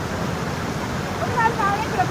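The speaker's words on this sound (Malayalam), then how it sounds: "വെള്ളം പാല് പോലെ നുരഞ്ഞു പതിഞ്ഞ് ഒഴുകുന്ന മഞ്ഞുമലയുടെ താഴ്വരയിലുള്ള നദി." Steady broadband rush of a foaming river flowing through a valley below snowy mountains at Doodhsagar-like falls area in Belgaum district, continuous and close, with no other sounds standing out.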